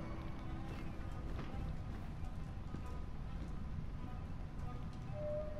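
Steady light rain in the video game Detroit: Become Human patters continuously, soft and even, with faint scattered clicks and no talking.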